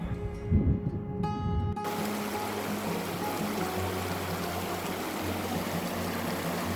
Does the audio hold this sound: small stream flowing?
yes